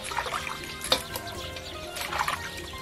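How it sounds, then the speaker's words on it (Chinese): Water sloshes and trickles as meat is washed for stewing, with soft splashes and a few louder splashes at close range, at a low level. "换上清水，把肉都彻底的洗干净。"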